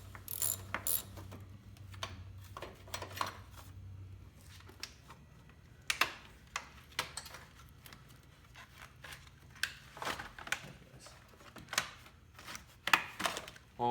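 Ratchet on socket extensions working a 13 mm bolt during a battery replacement on a Nissan Versa, giving short bursts of close metallic clicking with pauses in between, and no voices.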